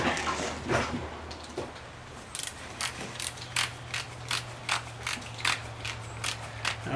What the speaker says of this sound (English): let's grab that torque wrench out and see